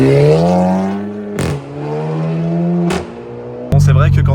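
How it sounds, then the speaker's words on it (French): A VW Golf 7 GTI Performance revving in a tunnel, engine tone climbing through gears with sharp exhaust cracks between shifts, loud and close with reverberant echo. "quand on fait claquer comme ça sous un tunnel, c'est kéké à mort"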